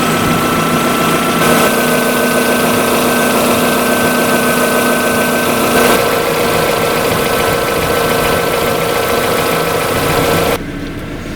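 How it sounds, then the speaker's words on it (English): A Mazda MX5 engine idling steadily and loudly at close range as the radiator fan runs, making a constant droning hum that cuts back sharply near the end. "the fan's now just cut in, so the thermostat or the sensor on the fan's working"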